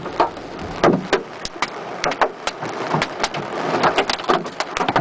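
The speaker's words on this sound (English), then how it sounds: "This is hail, off all sides." Hailstones pound the roof and body of a car, heard from inside as a dense, steady rattle of sharp impacts with louder individual hits scattered throughout, close and continuous.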